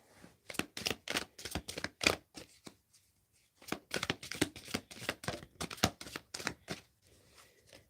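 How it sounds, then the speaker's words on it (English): A deck of cards shuffled several times, each riffle a rapid burst of crisp flutters separated by short pauses, close and fairly quiet. "I'm just going to do a shuffle a couple times, see what comes out"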